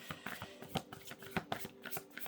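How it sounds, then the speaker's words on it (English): Tarot cards are shuffled by hand in a run of quick riffling slaps and soft rustles, close and fairly quiet. "Let me get a little shuffle in here."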